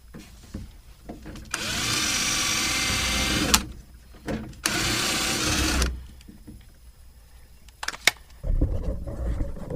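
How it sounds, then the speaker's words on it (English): A power drill whirs in two sustained bursts, each lasting a couple of seconds, close by, with brief pauses and clicks between, while drilling out a custom 1934 Ford door panel. "So I'm gonna drill that out"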